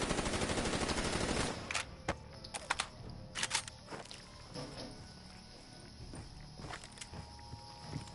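Automatic gun firing in Black Ops 3 Zombies, a steady rapid burst loud at the start, then breaking into scattered single shots and footsteps over quieter game ambience.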